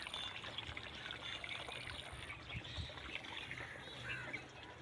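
Irrigation water flows into a crop field in Pakistan with a steady, close trickling and gurgling rush, fairly quiet and continuous, without speech over it.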